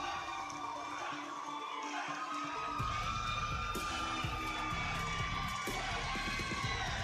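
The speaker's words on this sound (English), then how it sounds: "Listen to that crowd." A wrestling arena crowd at an NXT event roars and cheers steadily, a dense, continuous wash of many voices with occasional louder whoops throughout.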